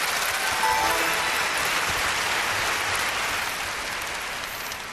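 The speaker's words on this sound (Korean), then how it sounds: "여러분 조승연 씨의 강연 큰 박수로 청해 듣겠습니다" A school audience at a youth lecture concert in Cheongdo, Korea, welcomes a lecturer with dense, continuous applause, a steady hiss-like wash of many hands that fades slightly toward the end.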